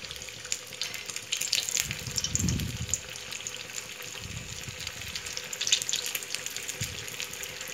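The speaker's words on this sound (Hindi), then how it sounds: "गैस की फ्लेम को तेज कर दूंगी और बाकी के बड़े इसमें डाल दूंगी।" Sabudana vada fry in hot oil over a high gas flame, giving a steady close hissing sizzle with soft bubbling surges throughout.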